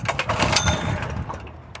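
A Honda GX160 small engine fires up and runs with a loud, close, rough putter, then eases off slightly near the end.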